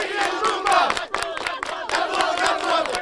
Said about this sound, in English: the Gratuitous Friday Cheer is a bunch of people getting together and clapping and cheering